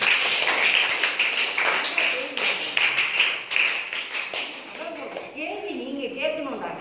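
Students in a classroom clap their hands in a quick, bright, continuous patter, with a voice speaking over the last part as the clapping thins.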